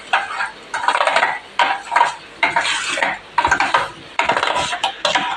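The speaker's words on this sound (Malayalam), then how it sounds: "ഒന്നുകൂടി ഞാൻ എല്ലാം കൂടി ഇളക്കി ചേർക്കുകയാണ്." Jackfruit fry batter stirred in a bowl, a spoon scraping and clacking against the sides in repeated close bursts with brief pauses between strokes.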